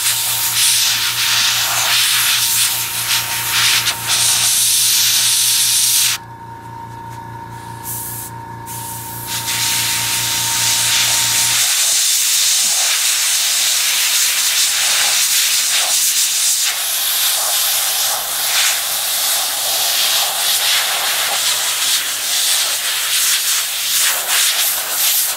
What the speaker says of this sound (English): So just spraying the jack now.